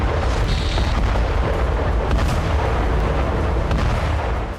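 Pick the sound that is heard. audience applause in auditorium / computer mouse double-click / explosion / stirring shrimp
explosion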